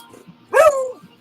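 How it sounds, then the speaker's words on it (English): A single sharp dog bark, loud and close, rises out of near silence and stands alone with no speech around it. "I got a dog barking in my ear"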